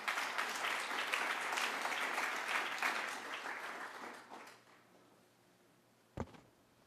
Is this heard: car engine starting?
no